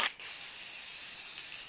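A loud, steady hiss from an aerosol can of spray adhesive, sustained for over a second after a brief start.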